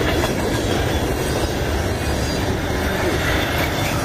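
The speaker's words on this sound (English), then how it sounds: "there's the train up there on the hill" CSX freight trains rolling eastbound through Blaisdell in Buffalo, New York, a dense, steady roar of wheels and rail noise close by, with no break throughout.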